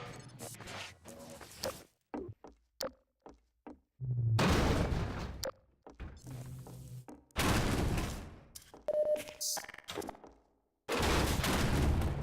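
Rockets fire in a PAYDAY or Half-Life 2 mod game session. Loud, broad blasts come in separate bursts, each lasting about a second, with sharper short pops and quiet gaps between them.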